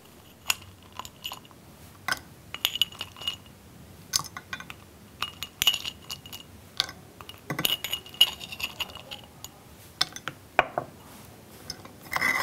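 A spoon stirs cocoa butter and maple syrup inside a small container, giving quick irregular clinks and scrapes with short taps and rattles, close and fairly light.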